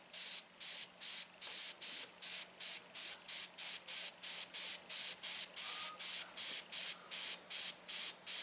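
An airbrush sprays paint while a simple rose is painted, giving a soft, even hiss that pulses on and off in short, regular bursts of about two per second.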